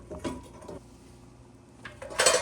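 Egg kofta curry is mixed in a pan with a spoon: a couple of soft scrapes and clinks at the start, a quiet gap, then a louder scraping stir at the end.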